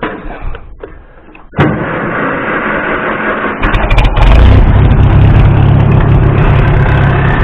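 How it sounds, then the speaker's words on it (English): An International tractor engine cranks, catches at about one and a half seconds, then rises into a loud, steady diesel running sound close to the microphone. "fire up the tractor and check for leaks."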